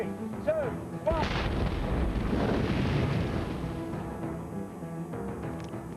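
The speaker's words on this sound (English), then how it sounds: "The fire is produced by explosive cord at the bottom of an oil drum with a sack of petrol on top." Explosive cord detonates at the bottom of an oil drum topped with a sack of petrol, unleashing a deep, roaring fireball blast that rumbles on for several seconds before fading, heard from a distance outdoors.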